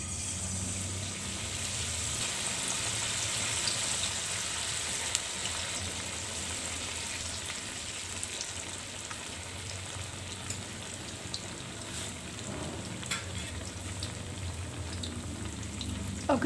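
Tempeh mendoan slices in batter sizzle steadily in hot oil, a continuous loud crackling hiss with scattered pops throughout.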